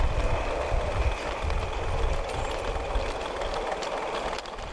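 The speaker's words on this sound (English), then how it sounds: "the up-mixed makes good time on the return journey to Beeston Market Station" A model train on the Peckforton Light Railway layout runs along the track with a steady, continuous rumble and rattle. The sound stays fairly constant throughout, with no voices.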